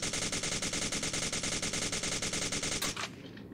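Suppressed FN P90 airsoft gun firing on full auto, a rapid, steady stream of loud mechanical shots for nearly three seconds before stopping abruptly, leaving a short fading tail.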